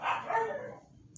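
A single dog bark in a Splatoon 3 game trailer, a short, bright bark that fades into a soft tail, heard alone.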